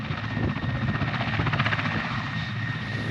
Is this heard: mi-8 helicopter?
yes